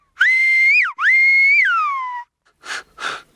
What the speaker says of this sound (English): our volunteer had no problem hearing the whistle clearly